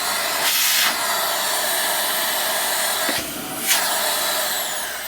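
VAX Mach 8 vacuum cleaner starting up and running, a loud close roaring hiss of the motor with a couple of brief surges in pitch as air flow changes.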